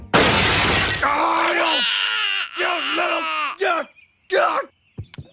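Glass shatters loudly in a Simpsons cartoon gag, a burst of breaking and crashing shards followed by a wailing, crying voice.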